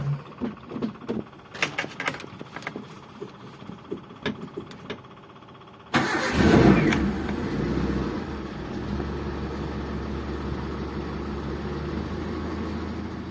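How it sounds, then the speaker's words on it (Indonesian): A Daihatsu Zebra Espass car engine cranks and starts with a sudden loud burst, then settles into a steady idle rumble that continues to the end, preceded by a few seconds of small clicks and taps. "Kita nyalakan dulu mobilnya."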